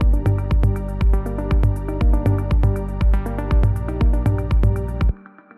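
A techno loop built with the Serum synth plays back: a steady four-on-the-floor kick with punchy synth stabs and bass repeating in a tight rhythm, loud and upfront, cutting off abruptly near the end.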